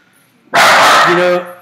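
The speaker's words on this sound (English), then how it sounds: "sorry if the dogs bark, y'all" Dogs bark loudly and close by during a live kayak-fishing show, giving one sustained burst of barking that breaks in suddenly over a quiet background and then tails off.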